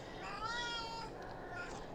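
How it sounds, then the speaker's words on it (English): A pet cat in The Sims 2 meows in a drawn-out, wavering call that rises and falls, then gives a softer second meow, close and clear over faint game ambience. "Oh, my kitty cat is with us."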